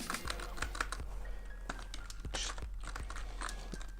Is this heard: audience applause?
no